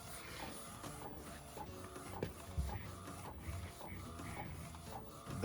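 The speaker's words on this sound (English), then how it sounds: "So the printer is printing very nicely." An Epson 1430 DTF printer fitted with a roll film system runs steadily, with a soft continuous mechanical whir and faint rhythmic shuttling of the print head, close and alone.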